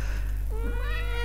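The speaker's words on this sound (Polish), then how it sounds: "Miauczy, mruczy, jest naprawdę super" A cat meows once, a rising then falling cry up close, over a steady low electrical hum with no one talking.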